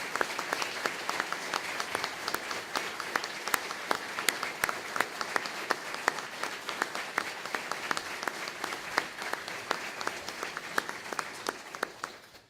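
Audience at an Icelandic graduation ceremony clapping for an award recipient, dense sustained applause from many hands throughout, fading out at the very end.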